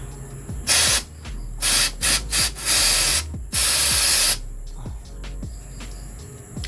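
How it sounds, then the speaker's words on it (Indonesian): Cleaner sprayed onto Honda Revo 110 dual-clutch parts and the clutch cover during an oil filter screen cleaning, in about five loud, close, hissing bursts of varying length over a low background hum. "Tinggal semprot-semprot"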